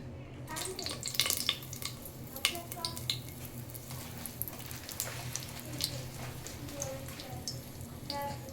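Tempering of four dried red chillies and seeds in smoking hot oil gives faint crackles and sputters with light clinks of a utensil against the pan, low and close.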